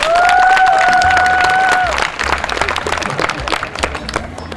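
A crowd at the start of the 2011 FK Pealsitten event breaks into dense, steady applause after a brief tonal sound at the outset. The clapping stays full and continuous to the end.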